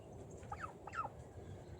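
Male turkeys on a village farm gobble in two quick, faint bursts of warbling calls over low background noise.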